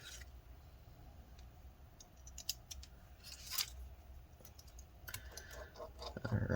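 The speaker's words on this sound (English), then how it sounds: "let's go ahead and get these screws in" Small screws are driven by hand into an HP Pavilion 15 (15-cs3075cl) laptop during repair, producing quiet, close, irregular clicks and light scraping ticks, with a brief louder clatter near the end and no talk.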